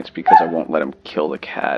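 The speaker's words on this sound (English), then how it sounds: "Excuse my dog whining." A pet dog whines and whimpers in short high yips, close by, overlapping a man's speech indoors during a Factorio gaming session.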